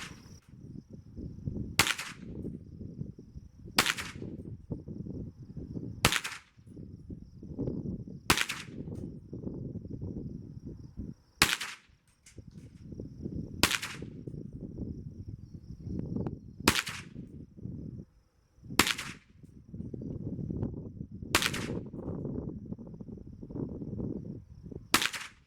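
Pistol shots fired at an outdoor range using a Feyachi V30 red dot sight, about ten sharp, loud cracks spaced a couple of seconds apart, with low wind and handling noise between them.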